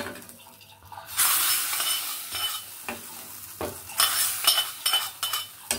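A spoon stirs Punjabi dal tadka in a metal pot, the tempering sizzling as it goes in. Scraping strokes and clinks against the pot come in irregular bursts over a soft background hiss, close and fairly loud.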